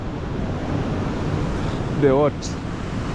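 A flowing stream feeding water tanks near Kisumu gives a continuous broadband wash of water, close and steady, mixed with wind noise on the microphone. A brief voice sounds partway through.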